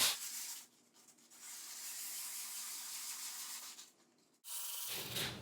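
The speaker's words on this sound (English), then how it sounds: "just gently just kind of rub along the surface of the canvas" Sandpaper rubbing across the surface of an old painted canvas, a steady close scratchy rasp in long continuous strokes with brief pauses between passes, no voices.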